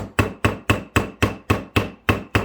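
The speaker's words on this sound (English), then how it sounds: "Put it on the mandrel this way, and tighten it up, and just tap that end back down." A hammer taps the end of a spoon ring down on a mandrel, giving about nine evenly spaced sharp metallic strikes with short ringing tails, close and loud.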